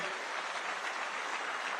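A crowd at a county economic forum in Limuru, Kiambu County, applauds UDA party aspirants with steady, dense clapping that stays even and moderately distant throughout the short burst.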